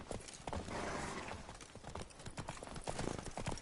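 Horse hooves clip-clop steadily in The Witcher 3, a quick rhythmic trot of hoofbeats on the ground, close and moderately quiet, heard alone without talk.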